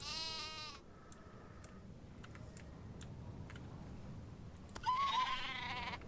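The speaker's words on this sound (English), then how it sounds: "Oh, sheep!" A sheep bleats loudly at the start and again near the end, in the video game Nancy Drew: The Haunting of Castle Malloy, with scattered keyboard clicks and tapping in between.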